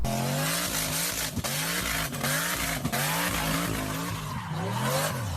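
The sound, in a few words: Holden Clubsport tyres spinning and squealing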